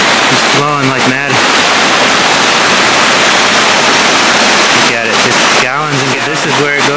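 Fast-flowing spring runoff water rushing under a bridge, a loud, close, steady roar throughout, with someone talking over it at the start and again near the end.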